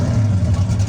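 Engine of a drift car at a Formula Drift event in New Jersey, heard as a loud, steady low engine roar with a brief rev at the start of a run.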